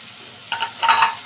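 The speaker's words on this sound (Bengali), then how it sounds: "একটু ভেজে নেব।" Chopped onion and green chilli frying in a pan with ginger, giving a soft hiss along with a few light stirring scrapes and clinks, close and clear with no talking.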